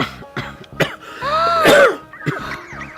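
A person coughs in several short, sharp bursts, then gives a longer strained throat-clearing sound, followed by a few more quick coughs, close and loud with no speech.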